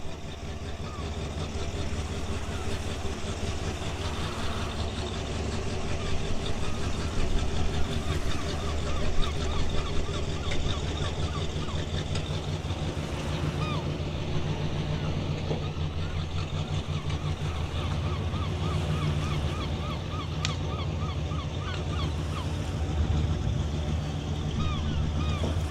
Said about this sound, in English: Let's have a look at it driving away.